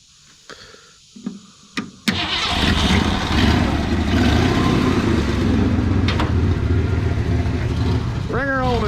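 A 1963 Ford Fairlane 500 that had been abandoned, with a weak battery and a hard crank, cranks over and catches, then idles loud and steady close by. A few knocks come before it starts and people talk under the engine.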